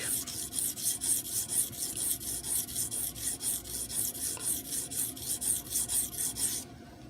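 A knife blade is stroked back and forth on a sharpening stone, a steady rhythmic rasp of about three strokes per second, close and loud, stopping abruptly at the end.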